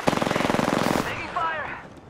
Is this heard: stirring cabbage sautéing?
no